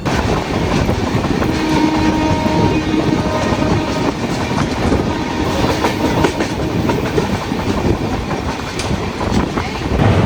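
Mumbai LTT to Kakinada Port Express rolls along the rails with a loud, steady rumble and rhythmic clickety-clack of the wheels, heard up close from on board.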